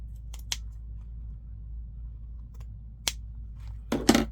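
Scissors snip junk journal paper in a few short, crisp cuts, close and fairly quiet, with a cluster of quick snips near the end and near silence between them.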